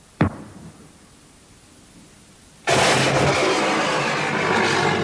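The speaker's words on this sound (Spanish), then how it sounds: "Esta explosión, al contrario que la de un proyectil, no es un impacto." A tank explodes in wartime: a sharp bang opens, then after a short lull a loud, broad roaring blast rushes in and holds to the end.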